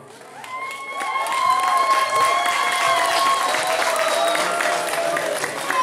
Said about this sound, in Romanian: Aplauze, aplauze